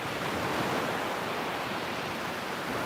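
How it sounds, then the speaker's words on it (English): Ocean waves washing ashore at sunset as a steady, moderately loud broadband rush with no talk over it. "I could just stop talking too if you just want to listen to the water"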